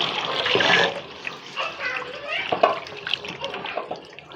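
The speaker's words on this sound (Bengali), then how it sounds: "এখন মাছগুলোকে ধুয়ে নেবো" Small young hilsa (jatka) fish are rinsed under running tap water, with a close, uneven splashing and gushing that rises and dips as the fish are handled.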